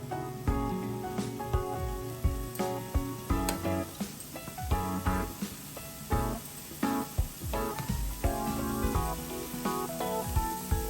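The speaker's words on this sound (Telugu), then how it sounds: "ఇప్పుడు వేడెక్కింది ఆయిల్. ఇందులో కొద్దిగా ఇంగు వేస్తున్నాను." Asafoetida sizzles in hot oil with a bright, spraying crackle, while bursts of music-like tones and rhythmic knocks run through the whole stretch.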